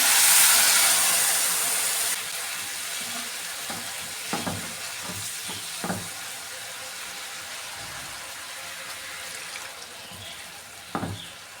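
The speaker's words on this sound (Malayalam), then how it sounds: "ഇതിലേക്ക് കുറച്ച് പാൽ ഒഴിച്ചു കൊടുക്കുവാണേ" Milk poured onto roasted vermicelli in a hot pan hits with a loud burst of sizzling, then settles into quieter bubbling on low flame, broken by several sharp spoon-and-pan stirring clicks.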